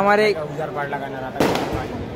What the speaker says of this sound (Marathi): फटाके फोडणं चालू आहे इकडं जालन्यामध्ये